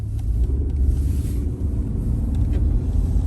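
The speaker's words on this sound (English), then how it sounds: "So we're gonna take her for a drive here." A 2010 Toyota RAV4 on a test drive, its engine and road noise forming a continuous low cabin rumble with slight swells as it moves, with no voices.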